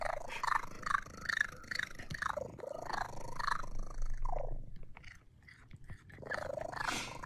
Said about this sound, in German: Katze macht komische Geräusche.